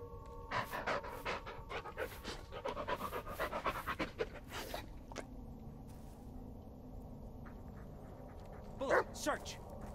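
Bullet the dog pants rapidly and steadily in the Blair Witch video game, close by, with a few soft yips and whimpers and someone talking over parts of it.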